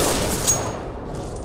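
A gunshot rings out in the game CS:GO, a loud sharp crack that opens the moment, followed by a short echoing tail and quieter game noise.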